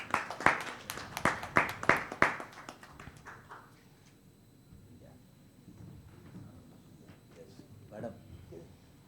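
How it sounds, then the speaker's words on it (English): An audience at a conference panel session claps in a short burst of sharp, fairly close hand claps that thin out after a few seconds into quiet room tone with faint voices. "Let's give a bigger round of applause to Dr. Asha Bhandarkar"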